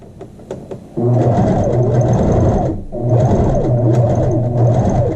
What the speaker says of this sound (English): I'm going to do a little back stitch right at the edge of the facing.